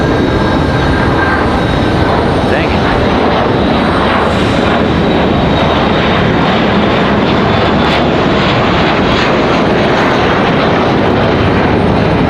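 A twin-engine SAS airliner departs Raleigh-Durham International Airport, its engines producing a loud, steady roar that fills the air without letup.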